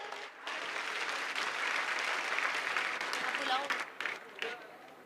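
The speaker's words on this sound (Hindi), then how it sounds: "एक बार जोरदार तालियां।" Audience applause at a large Hindu religious convention, a dense crowd clapping that swells after a brief pause, holds steady, then thins into scattered claps with a few voices mixed in.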